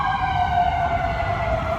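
Emergency vehicle sirens on a Los Angeles street, a loud sustained wail with steady layered tones holding throughout, heard close over low traffic rumble with no talking.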